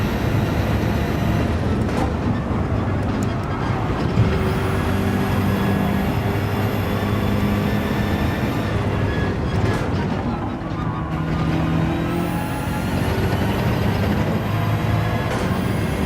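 A car engine in a racing video game drones loudly and continuously, with whining tones that rise and fall as the car accelerates and shifts.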